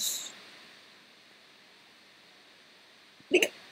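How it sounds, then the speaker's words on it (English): A single short hiccup near the end, after a few seconds of quiet background hiss. "That was a hiccup."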